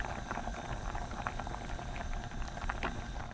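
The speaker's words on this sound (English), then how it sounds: "I'm going to boil the macaroni here" Macaroni boiling in a pot of water, with a steady bubbling and gurgling that is close and fairly loud throughout.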